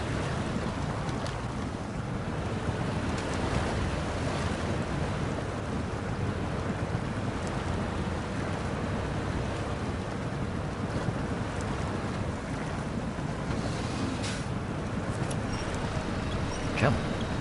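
Truck fording a river in the off-road driving game SnowRunner, a steady dense wash of churning water and engine rumble that runs unbroken throughout, with wind-like noise.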